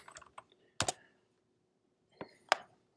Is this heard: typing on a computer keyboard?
yes